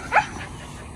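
A heeler dog lets out a single short, high yip or whimper near the start, close by, followed by a low quiet background with no talking.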